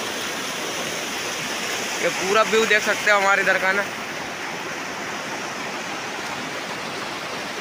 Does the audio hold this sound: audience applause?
no